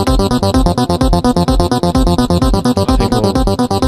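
A Thor synthesizer patch in Reason 5/6 playing together with a drum track: steady, driving beat with punchy kicks and a bright, pulsing synth line repeating in tight rhythm, loud and continuous throughout.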